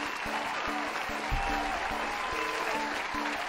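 Steady clapping applause from a small group, a dense even patter at moderate loudness throughout, with a few rhythmic claps standing out.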